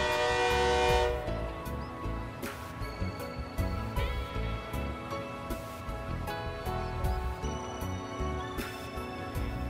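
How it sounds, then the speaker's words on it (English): A train arrives with a loud horn blast at the start, followed by the steady rumble and clatter of the train rolling in, and a few sharp metallic clanks. "The train is here"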